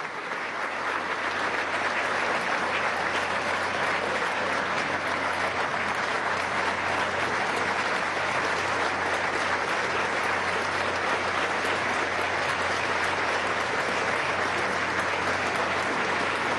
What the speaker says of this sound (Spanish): Un aplauso grande a la Fuerza Armada Nacional Bolivariana.